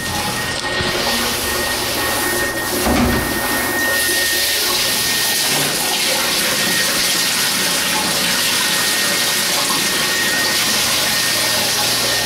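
Water cascading down an indoor staircase, rigged as a prank waterfall on a second-story stairway, makes a steady, loud rushing wash that runs continuously throughout, with a brief thump near the start.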